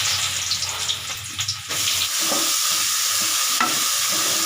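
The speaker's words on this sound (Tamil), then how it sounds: "இப்போ சேனக்கிழங்கு எண்ணெய் விடுறோம். கடுகு போட்டு சேனக்கிழங்கு போடுறோம்." Elephant foot yam frying in oil with mustard seeds gives a steady, close sizzle with brief stirring scrapes early on, settling into an even crackle.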